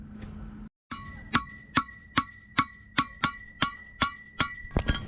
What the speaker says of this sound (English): So what that sound is Matt knocked out the old race from our hub assembly.